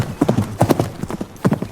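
Horse hooves clip-clop in a quick uneven rhythm, close and fairly loud, with several clustered strikes over a brief stretch.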